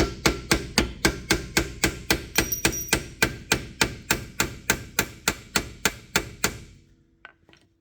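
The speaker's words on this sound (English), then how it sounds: "I'm hitting on this corner of the brake pad right here. Trying to free it from the caliper." Hammer strikes on the corner of a brake pad stuck in the caliper of a Jeep ZJ: about twenty sharp, evenly spaced metallic taps at a brisk pace, close and clear, then stopping with a couple of faint knocks.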